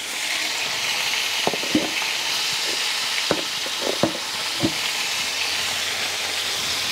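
Chicken and potatoes fry in a pan with a steady close sizzle, broken by a few sharp scrapes and clacks as the pieces are stirred and turned.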